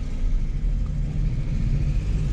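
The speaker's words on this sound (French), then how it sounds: "On dirait qu'elle tourne sur 3 cylindres" An old car engine, seemingly running on three cylinders, runs steadily at idle, a low uneven rumbling throb close by with no voices.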